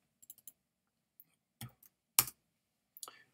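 Sparse keystrokes on a computer keyboard while writing an Excel VBA macro: a quick cluster of light taps, then isolated louder clacks spaced across a few seconds, crisp and close with silence between.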